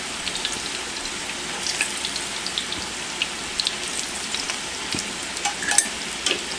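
Squash and potatoes sizzle steadily in a frying pan with a continuous crackling hiss and scattered sharper pops. The sound is close and moderately loud, with no talking.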